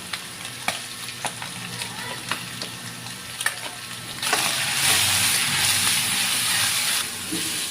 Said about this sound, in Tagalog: Gisahin lang natin mabuti yung tomato paste kasi maasim yan.